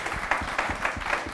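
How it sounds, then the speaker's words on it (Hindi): Audience applause at a Hindi poetry or talk event for Anamika Jain Amber, a dense patter of hand clapping with rhythmic bursts swelling and receding over a short stretch, fairly faint and without speech. "एक बार इस बात पर भी तालियां हो"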